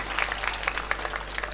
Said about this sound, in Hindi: एक बार जोरदार तालियां बजाओ